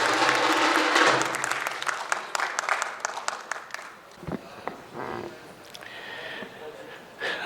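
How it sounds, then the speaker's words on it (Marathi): An audience at an event claps to welcome a historian and author to the stage, a loud dense burst that thins into scattered claps and fades, with murmured voices underneath. "श्री विश्वास पाटील सर यांना टाळ्यांच्या जोरदार गजरात आमंत्रित करते"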